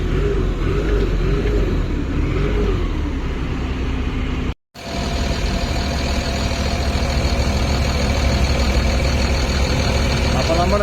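An asphalt paver engine labours during road tarring while pushing a lorry, a loud, steady diesel rumble close by that runs throughout with one brief break, and a voice talks over it early on.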